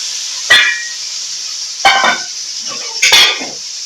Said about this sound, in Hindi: इसी तरह से भून रहा है